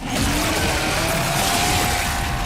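A 14-inch-bar chainsaw in a video game revs up with a rising, sustained engine whine and a steady rough buzz, loud and close throughout.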